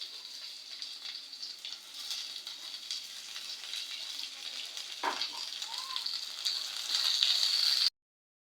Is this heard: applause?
no